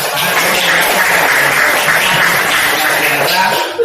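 Broad, continuous clapping from a seated group at the close of an academic supervision coaching presentation, loud and steady throughout with faint voices underneath.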